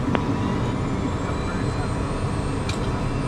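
A Cessna Citation M2 jet taxiing after landing, heard as a steady cabin engine drone and airflow hum, moderately loud and even throughout.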